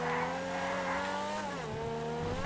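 A Grotti X80 Proto car drives in GTA 5, its engine giving a steady, droning tone that climbs slightly, dips, then rises again over 2.5 seconds, with no voices.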